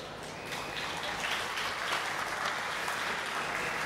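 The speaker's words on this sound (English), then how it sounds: "Please join me in giving a warm round of applause to Messiah Murad, who is gracing our stage" A festival audience at an Assyrian New Year celebration claps steadily in a broad, rain-like wash of applause that stays even and moderately distant throughout, with no voices rising above it.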